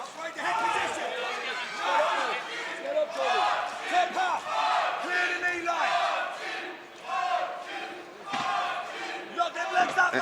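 A crowd screams and yells at an amateur 155lb MMA bout as one fighter works on the mat, loud surging shouts rising and falling in waves, mixed with chatter and a commentator's voice.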